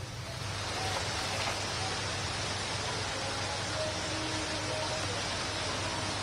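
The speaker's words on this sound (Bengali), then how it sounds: "এখন মুষলধারে বৃষ্টি হচ্ছে।" Heavy rain pouring on the open National Eidgah ground, a loud, steady broadband hiss that holds unbroken throughout.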